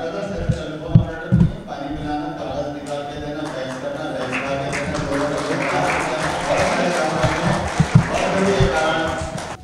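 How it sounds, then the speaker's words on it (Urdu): Applause from an audience at an anniversary awards ceremony for a newspaper, a broad dense clapping that builds and stays loud, with some louder claps and a voice speaking over it near the start. "تالیاں زور سے بجاؤ"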